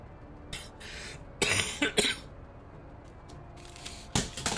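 A person coughs in several sharp, dry bursts indoors: a short pair near the start, a louder cluster in the middle and another hard cough at the end, with no talking.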